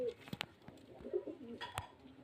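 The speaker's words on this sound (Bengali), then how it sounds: "এগুলো সব গিরিবাজি পায়রা মুর্শিদাবাদের" Giribaz pigeons from Murshidabad coo in short bursts, mixed with a few sharp wing or perch sounds and faint chirps, fairly close and moderate in level, with no talking.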